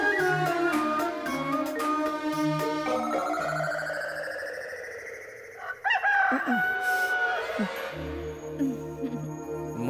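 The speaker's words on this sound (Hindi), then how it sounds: "मुर्गे ने बांग दे दी है।" A rooster crows amid film music and sound effects, its drawn-out call rising and falling midway through a busy, layered soundtrack with clucking fowl.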